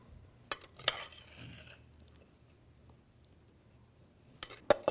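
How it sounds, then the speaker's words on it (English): A few sharp spoon clinks against a bowl while mixed berries are spooned into a lined pie shell, with a quiet, soft gap between the early taps and a last pair of clinks. "Just going to spoon the berries in."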